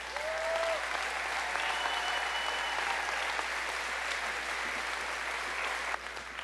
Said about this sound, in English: how about a round of applause for those who serve our country?